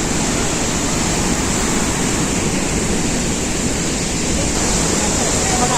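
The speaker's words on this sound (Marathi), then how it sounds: "हे वॉटरफॉल हे पाणी जे जमिनीमधून येत आहे" Davis Falls waterfall in Pokhara, Nepal, a steady broadband roar of water plunging into the ground, continuous and loud throughout with no clear breaks.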